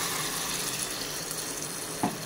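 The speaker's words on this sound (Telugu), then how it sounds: "ఇలా దగ్గరికి అయ్యాక కొంచెం వాటర్ పోసుకోవాలి" Water is poured into a pan of pakodi curry, producing a steady close rush of liquid with a brief splashy burst near the end.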